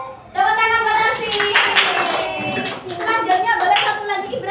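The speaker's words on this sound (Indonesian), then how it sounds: "Tepuk tangan buat Arsi." An elementary school class in an Islamic religious education lesson claps for a pupil, a loud, close burst of children's clapping mixed with their voices and a rhythmic chant lasting several seconds.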